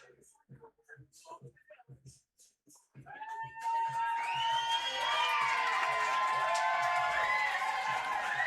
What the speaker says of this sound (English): applause for the boys.